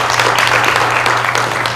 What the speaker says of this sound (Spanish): Bueno, otro aplauso.